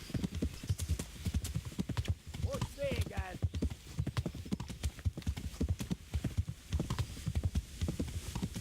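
Horse hooves pound in a rapid galloping rhythm in the medieval video game Kingdom Come: Deliverance, a steady clip-clop throughout with a brief whinny midway, while someone talks over it.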